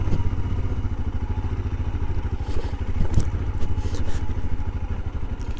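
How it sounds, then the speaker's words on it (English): A Royal Enfield Scram 411 motorcycle rides over rocks, its single-cylinder engine thumping in a steady rapid pulse, close and prominent, with scattered clatters and scrapes from the rough trail. "And off we go again, just bimbling over some rocks."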